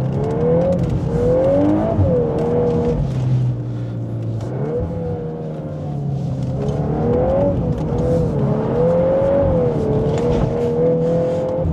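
VW Golf 8R engine accelerating on a rural road, revs climbing and easing through repeated throttle pulls and shifts, loud and steady from inside the car with no talk.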